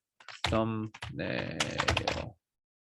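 Typing a title on a computer keyboard, a quick burst of clicking keystrokes lasting about two seconds, with a voice audible briefly at the start.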